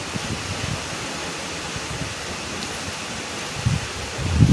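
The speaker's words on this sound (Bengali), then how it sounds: "কীরকম ঝোড়ো হাওয়া বইছে" Stormy wind from Cyclone Remal gusts across a residential rooftop, a steady broadband rush with low buffeting bursts that swell louder toward the end.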